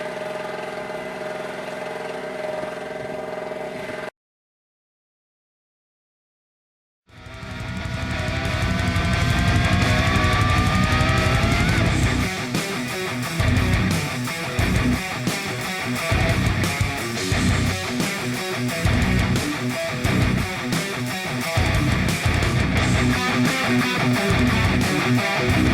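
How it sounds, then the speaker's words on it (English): An angle grinder running on grid power cuts corrugated metal siding panels at an off-grid ICF homestead, giving a loud, steady whine that drops out for a few seconds early on, then returns with continuous rough cutting. "I used the grid power out there to run the grinder"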